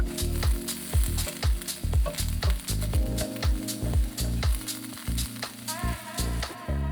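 Thawed corn charring in melted butter in a skillet, a loud continuous sizzle broken by repeated rhythmic scraping knocks of a spatula, no voices.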